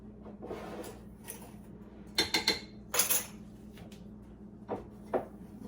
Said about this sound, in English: gonna whisk that together